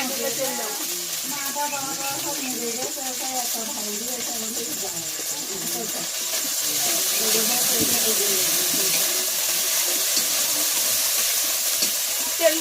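Cooking oil heating in a pan over a wood fire sizzles steadily and loudly, a continuous hissing fry that swells slightly partway through, with voices talking over it.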